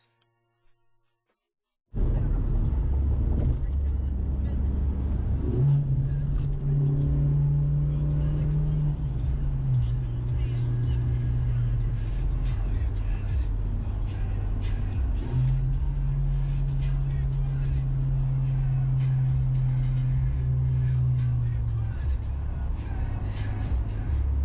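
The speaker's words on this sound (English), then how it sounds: "I left the audio in there just so you can kind of hear it, you know, me downshifting" After a brief silence, a Kia Forte GT engine drones steadily inside the cabin, its pitch stepping down and up as gears change through a short-throw shifter, with a voice talking over it.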